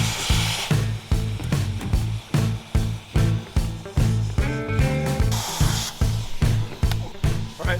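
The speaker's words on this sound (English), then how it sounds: "So this is my nitrogen plastic welder." A nitrogen plastic welder laying round plastic rod, heard as a loud, close hot-air hiss that pulses on and off in repeated bursts, with faint rubbing and scraping between them.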